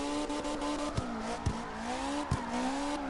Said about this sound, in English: if you give it too much angle, you'll spin out just like that